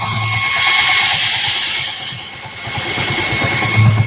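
Cooling fan on a Yamaha motorbike radiator running, a steady close whirring drone with a faint engine hum beneath, even and unbroken.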